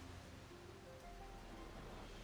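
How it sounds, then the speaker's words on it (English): Rain falls in the video game Final Fantasy XIV, a faint, steady hiss of droplets spread evenly with a low rumble underneath and no voices. "I swear it always ends up raining whenever I'm in this zone."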